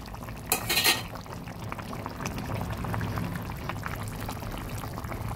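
A pot of Bengali vegetarian papaya shukto bubbles steadily close by, a soft continuous simmer with a short clatter of utensil against pot at the start.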